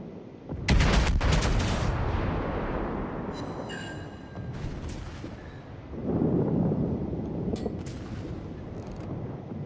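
Heavy naval guns from World of Warships battleships, the South Carolina and St. Louis, fire in booming salvos, with a big blast near the start and another rumbling volley later over a steady sea-battle background.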